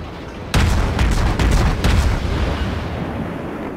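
Warship guns fire in the naval battle game World of Warships, a sudden heavy booming salvo followed by rumbling repeated blasts that slowly fade into a low roar, loud and close, with no voices.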